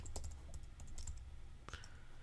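Quick, irregular clicks of keys on a computer keyboard tapping in short bursts, close and fairly quiet, with no talking.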